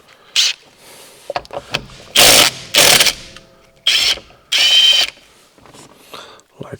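Ratchet of a socket wrench with extension sockets removing the steering wheel of a Volvo 940 Turbo, heard as several loud close bursts of rapid clicking separated by quieter pauses, with some faint handling noises in between.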